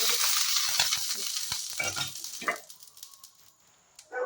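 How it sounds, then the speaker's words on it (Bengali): Ghee sizzling in a pan while making mango patishapta, a bright crackling hiss that starts strong, comes in uneven bursts and fades out to near quiet, with a few clatters. "তো চলো আগে আমি আমার প্যানে একটুখানি ঘি দিয়ে দেবো।"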